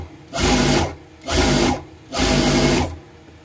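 Sewing machine stitching a Sabyasachi-style blouse, running in three steady bursts of about half a second each with short pauses between, loud and close with no talk.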